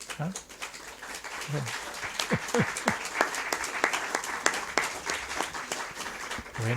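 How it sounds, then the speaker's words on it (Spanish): Live audience clapping for a talk on mental calm, a steady patter of many hands sustained throughout with a few louder individual claps standing out, while a voice speaks intermittently over it. "Gracias por los aplausos"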